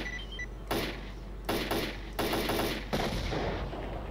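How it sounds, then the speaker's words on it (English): A barrel explosion and gunfire in STALKER sound as several sharp, loud bursts spread over a few seconds, each with a short noisy tail. "Explosion. Did not slow down the game."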